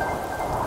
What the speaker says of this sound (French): la pluie tombe drue, ça forme des cordes interminables.